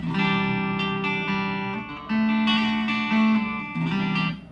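A Telecaster-style electric guitar with ceramic pickups plays sustained notes and chords with a bright, slightly effected tone, ringing out alone with short pauses between phrases.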